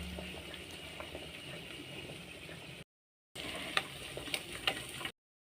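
Drumstick leaves sautéing in a pan, a faint steady sizzle and bubbling with small scattered pops, broken by a brief cut partway through, with no voices.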